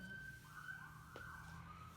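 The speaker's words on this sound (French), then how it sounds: "Ça, c'est l'ambulance." An ambulance siren passes outside, a faint distant wailing tone that sweeps up and down over a steady low background rumble.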